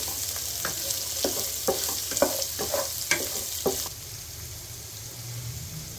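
Roughly chopped large onions fry in a hot pan for tomato kurma: a continuous sizzle broken by sharp, irregular scrapes and taps of a spoon stirring, loud and close, with no talk.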